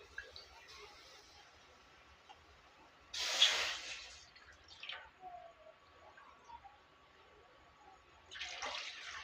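Water poured into a pot to be brought to the boil for making dough, two cups for two cups of flour: one short splashing pour of about a second in a quiet kitchen, a few faint clinks, then a brief second pour at the end.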